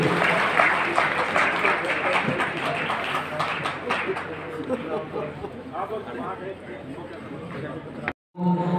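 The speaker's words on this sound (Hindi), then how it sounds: "तालियां यहाँ पर मुझे बिल्कुल मांगनी पड़ रही है आप लोगों से" Scattered audience applause at a Goga fair event for a railway station redevelopment, clapping fading under an amplified speaking voice, then a brief dropout before the talk resumes.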